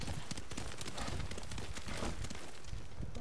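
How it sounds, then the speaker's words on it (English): A horse gallops in the video game Ghost of Tsushima, its rapid hoofbeats blending into a dense, constant wash of game noise at moderate level. "I'm trying to jump with the horse"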